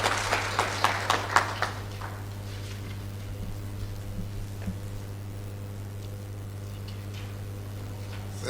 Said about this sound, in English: Shall we welcome him with a round of applause?